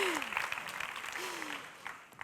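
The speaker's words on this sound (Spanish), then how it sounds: "¡Un aplauso!" An audience at a talk claps in a brief burst of applause, dense and fairly soft, tapering off over a couple of seconds while a voice speaks over it.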